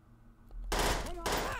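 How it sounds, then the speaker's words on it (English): Gunfire in the video game Perfect Dark Zero comes in two loud, short bursts of shots after a quiet moment, with a voice briefly audible. "I heard a gun."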